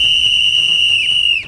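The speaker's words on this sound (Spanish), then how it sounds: "que suene el silbato." A sharp, steady whistle is blown on a morning radio show, holding one loud, unbroken high note for about a second and a half before it bends downward and cuts off.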